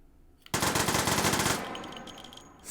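A gun in the VR shooter Hot Dogs Horseshoes & Hand Grenades fires a fast 17-round burst, a loud rapid rattle lasting about a second, followed by ringing and the tinkle of falling casings.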